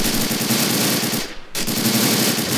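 Sustained machine gun fire from the World War II strategy game Men of War: Assault Squad 2, set in the Battle of the Bulge, loud and dense, with a brief drop in the middle before the rapid shots resume.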